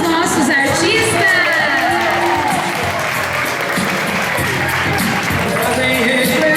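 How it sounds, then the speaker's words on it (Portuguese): An audience claps and cheers loudly for performers at an Afro-culture presentation, a steady, dense wash of clapping with whoops, and voices and chatter mixed in. "Uma salva de palmas aos nossos artistas."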